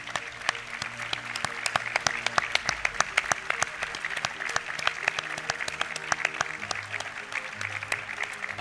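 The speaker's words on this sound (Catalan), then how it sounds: "Un fort aplaudiment i que pugin aquí, sisplau, Romain Fornell i Òscar Manresa amb els seus equips." Strong audience applause at a Catalan national gastronomy awards ceremony as chefs and their teams are called up to the stage, with sharp separate claps standing out over a full room of clapping and a low hum underneath.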